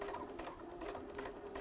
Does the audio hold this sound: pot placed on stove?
no